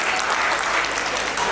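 Steady, dense clapping from a large audience at a poetry recital, continuous and fairly loud throughout.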